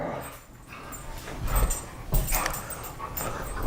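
Dogs whimper and give a few short barks and yips in a workshop, with the yelps and whines rising in bursts over a light background hum, nearby and moderately loud.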